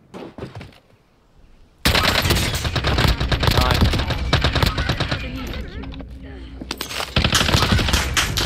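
Automatic gunfire in the Warzone video game erupts after a quieter opening and then runs as dense, loud rapid fire for most of the clip, with a voice talking underneath.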